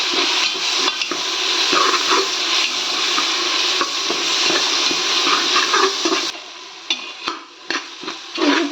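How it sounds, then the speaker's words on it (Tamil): Ginger garlic paste frying with tomatoes in a pan for chicken biryani, a loud, close, continuous sizzle broken by stirring scrapes that turn into choppy bursts near the end. "இப்போ நம்ம இஞ்சி பூண்டு பேஸ்ட் சேர்த்துக்கலாம்"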